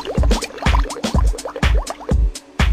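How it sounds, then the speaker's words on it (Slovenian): Syrup and then water pour into a glass, close and loud, with a run of rhythmic glugging splashes and drips, no talking. "V kozarec natočimo zmerno količino našega sirupa,"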